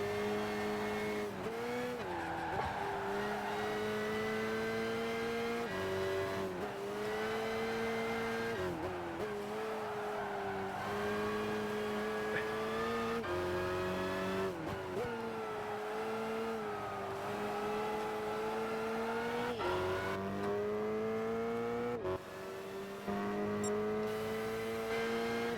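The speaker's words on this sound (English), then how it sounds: "even if it is actually going for the Opel Vectra DTM engine noise" Opel Vectra DTM race car in Gran Turismo 5 drones with a loud, continuous engine note that rises and dips through gear changes. A few brief shifts and lifts interrupt the flat, buzzy tone, with no one talking.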